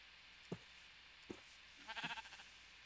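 A sheep bleats in a video game: two short soft blips, then a faint wavering bleat near the end, quiet and brief over low background hiss.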